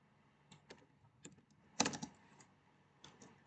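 Code being typed on a computer keyboard: quiet, close keystrokes in short irregular bursts, with one brief quick flurry in the middle.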